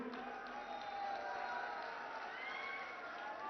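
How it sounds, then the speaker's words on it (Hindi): A large crowd at a political rally in Amethi claps and cheers, a dense, steady wash of applause and crowd noise filling the whole moment without a break. "अभी ताली मत बजाओ"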